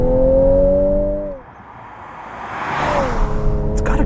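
Engine note of a 2021 Ford Edge ST while driving: a loud harmonic drone that drops off, dips quiet, then builds again as it accelerates, heard from inside with no talking.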